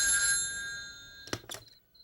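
A telephone rings in a police station at night, a bright electronic ring that fades out, followed by a couple of sharp clicks as the receiver is picked up and a faint lingering tone.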